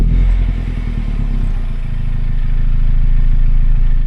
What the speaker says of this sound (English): when I first drove one of these, starting it from cold, I thought it was a diesel